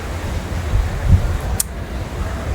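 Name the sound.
strong wind outdoors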